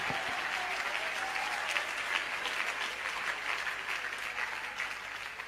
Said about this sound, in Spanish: denle un aplauso y una alabanza al Rey de Reyes y Señor de Señores